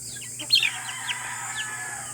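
A few soft clucks and chirpy calls from chickens, fairly close, with a short louder burst early and light background hum.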